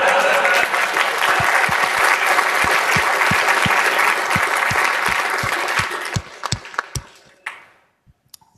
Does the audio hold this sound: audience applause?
yes